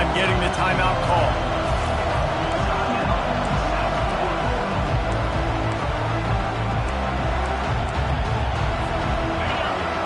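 Home crowd noise in a Madden football video game rises as the defense tries to get off the field on third down, a steady, dense roar and babble filling the whole stretch at moderate level.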